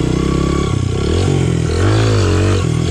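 A Honda CRF100F dirt bike, bored out to 120, revs hard with the clutch popped for a wheelie attempt, its engine note rising and surging loudly and close with no talk.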